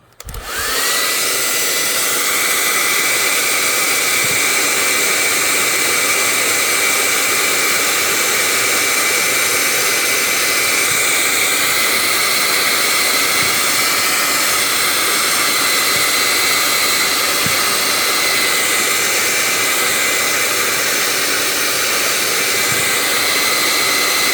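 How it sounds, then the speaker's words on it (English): A loud, steady hair dryer roars continuously at close range, a constant whooshing blast with a faint whine on top and no pauses. "so I got a hairdryer. Noise warning, it's probably going to be loud"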